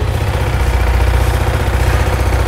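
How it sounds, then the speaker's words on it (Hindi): A Yamaha R15 V4 motorcycle with a 155 cc liquid-cooled four-stroke, four-valve single idles up close, a loud, steady low throb with a fast even pulse and no voices. "अब थोड़ा सा इस बाइक में इंजन साउंड आपको सुनाते हैं"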